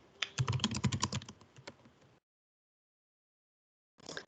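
Free text being typed on a computer keyboard: a quick burst of crisp, close key clicks for about two seconds, then silence, then a brief final cluster of taps.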